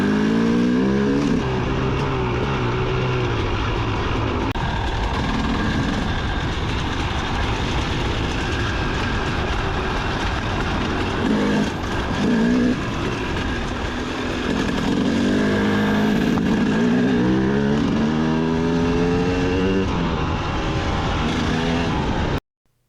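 A 2004 KTM 250 EXC motorcycle being ridden, its engine droning steadily and close throughout with rising and falling revs, the sound cutting off abruptly at the end.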